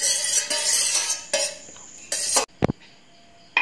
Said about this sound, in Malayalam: എന്നിട്ട് ഈ വിസ്ക് വെച്ചിട്ട് കട്ട കൂടാതെ ഒന്ന് ഇളക്കി കൊടുക്കുക